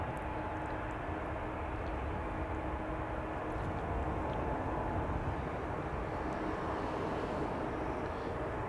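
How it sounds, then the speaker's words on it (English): A 13-year-old Boeing 737-700 jet at Amsterdam Schiphol makes a fairly faint, steady engine rumble and hiss from a distance, with no talking. "This particular 737-700 is 13 years old"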